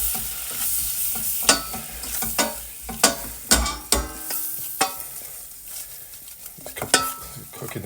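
A utensil stirs flour into hot fat in a pan to cook a roux, with a soft frying sizzle underneath and repeated scraping, clinking strokes against the pan, close and fairly loud.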